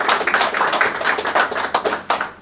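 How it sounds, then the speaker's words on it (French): Close, loud and dense clapping from an audience at the Baguettes d'or ceremony in Puteaux, 2016, a fast, continuous patter of hands that thins slightly toward the end. "Alors on peut l'applaudir."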